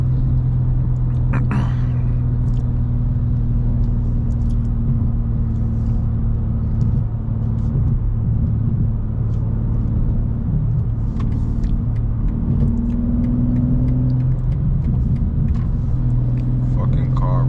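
Steady low road rumble of a 2026 BMW G80 M3 cruising on a highway, heard inside the cabin, with people talking over the drone of the engine and tires.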